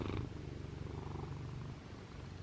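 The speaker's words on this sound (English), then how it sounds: "He's gonna be purring very loudly" A needy pet cat purrs loudly and close up indoors, a steady low rumbling rhythm that continues throughout without any talking over it.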